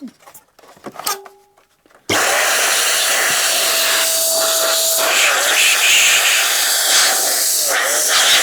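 Strong air blows through a PC fan to clear dust, a loud, steady, close rushing hiss that starts abruptly after a few quiet handling noises and holds continuously, with a faint whine from the spinning fan.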